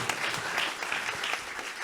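An audience at a stage show breaks into steady applause, a close, even patter of many hands with no break.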